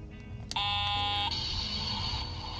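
A bus stop button fitted to a motor trike sounds a short electronic chime: a click, then a bright sustained tone lasting under a second, followed by a fainter lingering electronic note.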